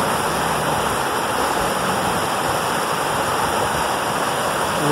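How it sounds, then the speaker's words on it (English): Water rushes steadily in a flowing creek, a constant close babble and splash with no talking. "There's our creek flowing freely."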